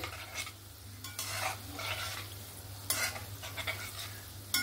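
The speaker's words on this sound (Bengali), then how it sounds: "গ্যাসকে একদম স্লোতে রেখে এরকমভাবে ভেজে নিতে হবে একটু টাইম দিয়ে।" Gulab jamun fry slowly in oil over a low flame. A quiet, steady bubbling sizzle runs beneath several soft scraping stirs, with a low hum in the background. No voices.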